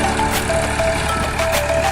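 A New Holland tractor pulling a cutter on a wheat farm runs with a steady, loud engine drone throughout, close by and with no voices.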